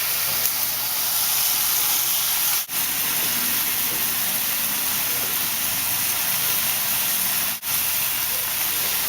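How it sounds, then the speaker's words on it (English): Steaks searing in a hot pan, a loud, steady, broadband sizzle that holds unbroken for the whole stretch, with no talk over it. "Let them sear on each side, and then we'll flip them over and we'll let them sear on the other side."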